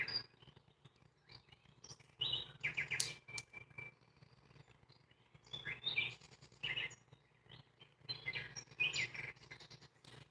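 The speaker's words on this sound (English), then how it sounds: "how's the volume on the sound machine, guys? Can you hear the birds?" Recorded birdsong from a sound machine, faint bursts of chirps and tweets in short phrases separated by quiet gaps, with a low steady hum underneath.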